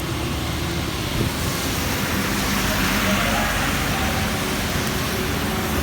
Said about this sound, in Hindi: यहाँ पर ज़बरदस्त बारिश हो रही है अभी।